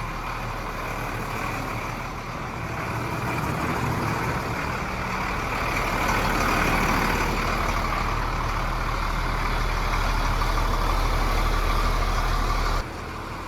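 The engine of a grapple truck runs steadily as a low, rough diesel drone that swells slightly midway, then drops off abruptly near the end, with no talking.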